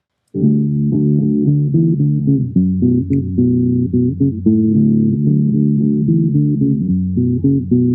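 Low-pass guitar with boosted bass, played to imitate a bass guitar part in a Mk.gee-style arrangement, enters abruptly and holds steady, dense low chords with a fuzzy, thick tone and no talk.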